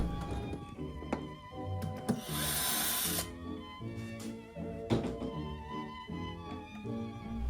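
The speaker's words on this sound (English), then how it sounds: "Pre-drilling, recessing the holes so the screws will sink down in." Intermittent tool noise with thunks and taps while pre-drilling and recessing screw holes in Art Deco furniture, including a short burst of high whirring like a drill biting into wood, over a low background hum.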